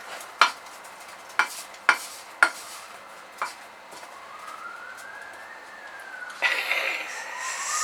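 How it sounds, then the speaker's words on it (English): A spoon stirs melting, sticky marshmallows in a pan at home, giving several sharp, separate taps and scrapes against the metal, with a distant siren wailing faintly in the background. "One thing I do know about melting marshmallows, continuously stir it or it will stick to your pan."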